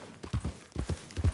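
Horse hooves clip-clopping in Red Dead Redemption 2, a quick uneven run of about eight thudding hoofbeats, close and fairly loud with no talking.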